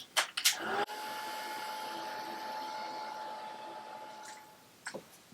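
A heat drying tool blowing on freshly sprayed magenta Lindy's Starburst spray on a mixed media background, a steady whirring hum that starts after a few clicks and runs for several seconds before cutting off.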